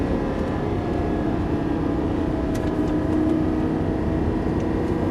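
A Lamborghini Gallardo LP550-2 Valentino Balboni engine roars steadily at speed on the Haute Saintonge race circuit, a continuous loud drone with some engine whine on top, no voices.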